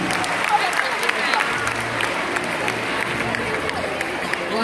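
Applause from an audience at an award ceremony for Commandant Seynabou Diouf, a steady patter of clapping continuing with voices mixed in underneath.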